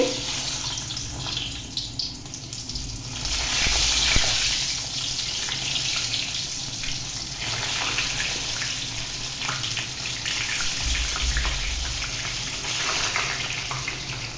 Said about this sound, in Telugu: ఇప్పుడు ఈ ఆయిల్లో మనం కట్ చేసి పెట్టుకున్న వంకాయలు అయితే వేసుకోవాలి.